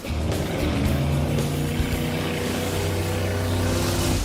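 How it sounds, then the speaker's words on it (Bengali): Amphibious cars drifting in circles on water make a loud, continuous engine drone with churning water, a steady close roar throughout and no speech. "ও ওরা তো জলের মধ্যেই ড্রিফট করছে, পুরো ডোনাটের মতো লাগছে।"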